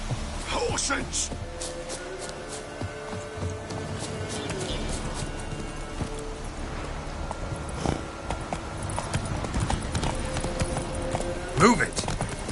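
Horse hooves clip-clop steadily in The Witcher 3 game, joined by occasional birdsong and a whinny near the end, with voices speaking over the hoofbeats.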